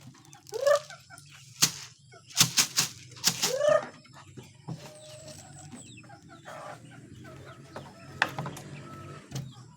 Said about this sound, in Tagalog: Lumabas po yung may mga sisiw, nagugutom